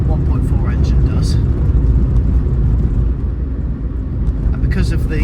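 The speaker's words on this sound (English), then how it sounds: "There are some rattles, as you can hear. You know, it's an old car, you are going to get things rattling around." An old car with a 16-valve engine is driving, heard from inside as a steady, loud road and engine rumble with a few small clicks and knocks, and no talking.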